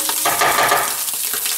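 Bacon and shallot fry in a pan with a loud, close, steady sizzle and crackle, alone without any voices.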